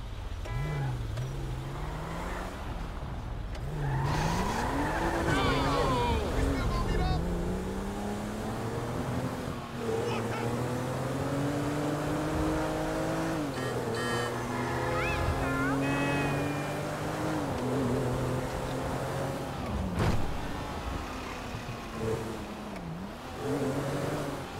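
Car driving in Grand Theft Auto V: a loud engine revving up and down through gears with sliding tire squeals and gliding pitch sweeps, continuous throughout.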